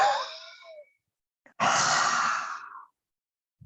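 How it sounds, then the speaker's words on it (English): Huffing breaths from the Swaskosh Shuddhi Kriya lung purification technique, with two forceful, close exhales, a shorter one and then a longer, stronger one, separated by a brief silence. "Let's do our huffing technique of the Swaskosh Shuddhi Kriya."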